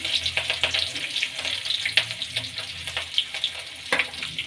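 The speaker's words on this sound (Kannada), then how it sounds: "ಈಗ ಎಣ್ಣೆ ಕಾಯ್ದಿದೆ ಮೊದಲಿಗೆ ಬೆಳ್ಳುಳ್ಳಿ ಹಾಕೊಳ್ಳೋಣ ಶುಂಠಿ ಹಸಿಮೆಣಸಿನ್ಕಾಯಿ" Garlic, ginger and green chilli dropped into hot cooking oil, crackling and sizzling close up with sharp pops and spits over a continuous hiss.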